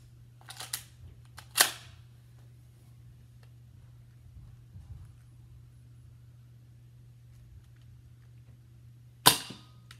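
A Nerf blaster is fired at home: a couple of sharp, faint snaps come early, one louder pop lands near the start, and a final crisp shot falls near the end over a quiet, steady low hum.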